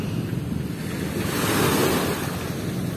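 Sea waves breaking and washing along the shore of Manila Bay, a steady loud surf roar with wind buffeting the microphone throughout, no voices.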